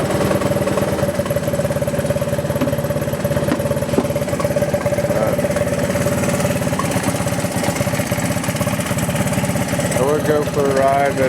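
A three-wheeler idles after a cold start with a loud, steady, rapid engine putter that runs unbroken and close for about eleven seconds, with a brief rattle near the end.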